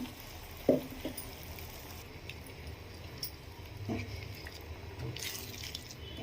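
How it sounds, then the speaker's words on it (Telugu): Water splashes into a pan that still holds the masala for a stuffed brinjal curry, a soft, faint pour with a few small drips and clinks in a quiet kitchen. "నేను మసాలా ఇందులో అయితే చేశానో ఆ గిన్నెలోనే వాటర్ని వేసుకొని యాడ్ చేసుకుంటున్నాను"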